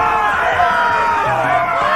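A large arena crowd from the Game of Thrones video game cheers and roars in a dense, continuous wash of voices, loud and close throughout.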